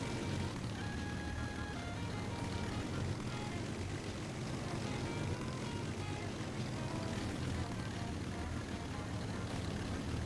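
Propeller plane engine in a Vietnam War flight game, a steady loud droning hum running continuously with no pauses, some faint tonal whines riding on top.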